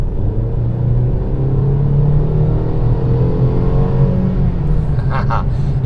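A 2021 Mercedes-Benz GLC300 turbo engine accelerates from inside the cabin, a steady low rumble and whir that holds evenly throughout, with a faint voice briefly near the end.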